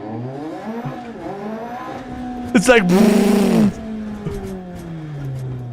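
Racing video game car engine with rising and falling rev harmonics, a sharp burst of tire squeal or skid mid-clip, and someone talking over the driving.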